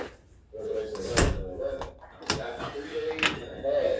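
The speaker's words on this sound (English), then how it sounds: "let me close this door all the way" An indoor door is pushed shut with a few knocks and thumps and a latch click, close and fairly loud, while a voice talks in the background.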